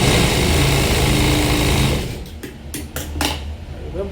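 A sewing machine stitching a blouse whirs loudly and steadily for about two seconds, then stops and leaves a few short clicks and handling sounds nearby.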